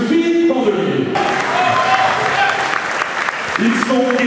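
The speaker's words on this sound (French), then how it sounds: "Je vous demande d'applaudir bien fort les deux collègues, M. Serge Gallier et M. Philippe Candelier" An audience at a brass band anniversary celebration applauds two musicians, a loud sustained round of clapping with voices speaking over it.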